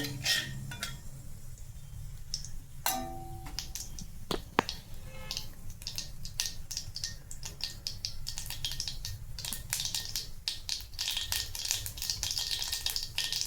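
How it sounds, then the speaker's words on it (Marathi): Cumin and mustard seeds crackling in hot oil: rapid sharp pops and snaps, sparse at first then growing dense and busy over a faint continuous sizzle. "छान तडतडले आहेत जिरे मोहरी"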